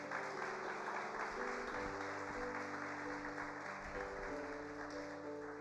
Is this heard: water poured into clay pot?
no